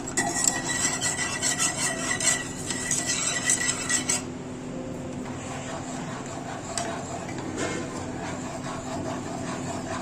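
Chocolate mixture being stirred continuously in a pan over a low gas flame, a spoon scraping and rubbing against the pan in a steady metallic rhythm, louder for the first few seconds and then softer.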